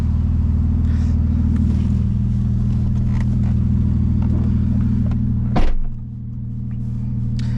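A 2015 Porsche 911 Carrera 4S PDK with Valvetronic exhaust idles in a deep steady rumble, then a sharp blip near the end before it drops to a quieter hum.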